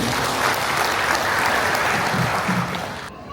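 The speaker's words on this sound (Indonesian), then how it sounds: "Tepuk tangan dulu buat NTT." An audience at a Christmas and New Year gathering of the NTT diaspora in Kalimantan claps in loud, steady applause that stops abruptly near the end.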